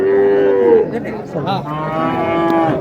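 Cattle at a rural Bangladeshi livestock market selling heifer calves, mooing loudly in a long drawn call that falls away, followed by a second rising moo, with market bustle underneath.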